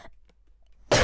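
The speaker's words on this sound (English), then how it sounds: "Okay, stuffy, and I'm coughing." A person with a cold and a stuffy nose gives a single short, loud cough at the end, preceded by near silence with faint breathing.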